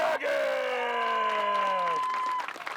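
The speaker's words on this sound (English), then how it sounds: "give her a big round of applause" A disc golf tournament crowd cheers with long whooping shouts that slide downward, loud and close, with clapping mixed beneath.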